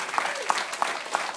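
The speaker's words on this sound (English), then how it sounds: "Clap it up for the parents." A council meeting audience in Bristol Township claps for the parents of young kids, brief and moderately loud, with a few distinct claps standing out in a steady rhythm.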